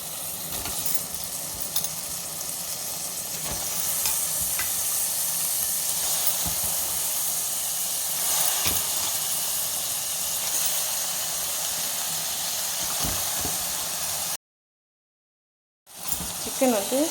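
Pieces of black Ayam Cemani chicken added to already-fried masala for a Chettinad curry, giving a loud, steady close hissing sizzle that runs on before cutting off abruptly near the end.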